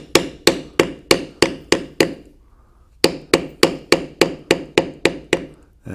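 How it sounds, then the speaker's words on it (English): A leather bevelling tool struck with a mallet while carving a standing buffalo design: sharp, close, evenly spaced wooden taps, seven in a row, a one-second pause, then about ten more at the same steady rhythm. "we will bevel the back of the leg closest to us."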